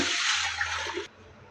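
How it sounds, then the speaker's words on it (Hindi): A steady rush of water pours briskly into a pressure cooker holding whole masoor lentils for about a second, then stops abruptly, leaving a quiet hiss. "तो साथ में मैं डाल दूँगी पानी"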